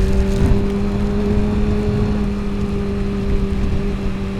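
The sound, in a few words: supersport motorcycle riding in a tropical cyclone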